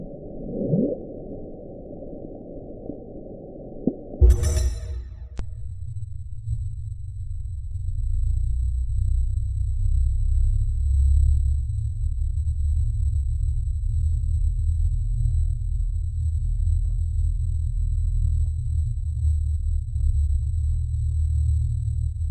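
An underwater hydrophone recording of the Bloop, a mysterious low-frequency ocean sound: a short muffled low rumble, then after a brief click a steady loud deep rumble that drones on with a faint high tone above it.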